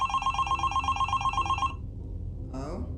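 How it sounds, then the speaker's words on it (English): A telephone bell rings in a fast, trilling burst that lasts over a second and a half and then stops, leaving a low hum, with a short fainter sound near the end. "when the phone rang."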